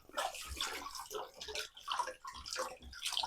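Cold water rinsing out a Pinter 3 home-brewing vessel, splashing and sloshing in repeated surges close by with no talk.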